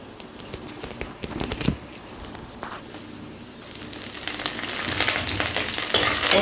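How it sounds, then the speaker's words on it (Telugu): Curry leaves dropped into a hot oil tempering crackle and sizzle in a home kitchen, sharp pops early on giving way to a louder, denser frying hiss near the end. "కరివేపాకు అయితే కడిగేసి ఇప్పుడు వేసేస్తానమాట పోపులో"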